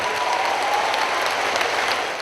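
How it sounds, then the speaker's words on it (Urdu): Crowd applause for a standing ovation at a Pakistani event honouring the Prime Minister, heard as a thick, even roar of many clapping hands, loud and sustained throughout. "خواتین و حضرات, اسٹینڈنگ اویشن,"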